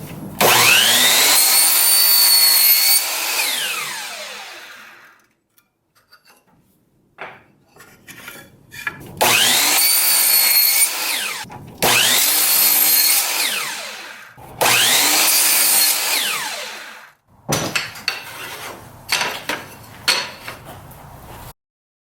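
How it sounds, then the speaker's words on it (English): A power saw cuts 5-inch pieces of wood stock for a nightstand build, in four loud sustained passes with brief pauses, each pass rising in pitch as the blade frees, followed by clattering handling noises. "now it's time to cut some 5-inch pieces out here"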